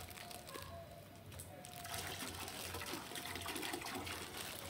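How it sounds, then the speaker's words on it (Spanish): Water poured into a pot of Salvadoran mondongo (tripe and beef-foot) soup cooking outdoors, a steady, fairly quiet gushing trickle running continuously with open-air ambience behind it. "Y le voy a agregar otro poquito de agua."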